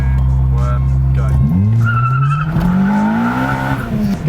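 Honda Civic Type R EP3 launching hard from 2,000 rpm with the handbrake on a hot day, engine held at steady revs then dropping and climbing loudly as the tires chirp, with voices over the run.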